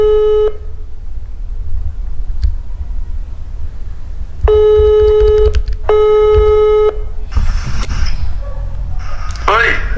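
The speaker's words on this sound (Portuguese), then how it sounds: "Ele não atendeu, velho. Vou ligar a última vez" An outgoing phone call produces a ringback tone: loud, steady electronic tone bursts, one at the start and two more later with a brief gap between them, followed by voices near the end.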